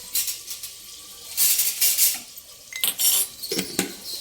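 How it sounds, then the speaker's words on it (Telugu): Onions frying with salt in a pan, with scraping and clinking of a utensil against the metal over a soft sizzle, in uneven bursts. "దీనిలోనే ఈ ఉల్లిపాయలు మంచిగా వేగటానికి ఉప్పు వేసుకోవాలి"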